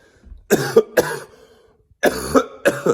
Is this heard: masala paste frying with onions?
no